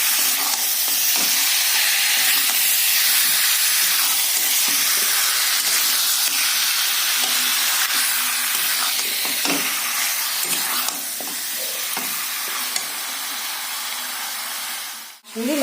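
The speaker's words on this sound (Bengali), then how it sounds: "এটাকে ভালোভাবে কষিয়ে দেবো মাংসটাকে।" Chicken for chicken kosha is stir-fried in a pan with a steady, close sizzle and hiss, scattered stirring scrapes, and an abrupt stop at the end.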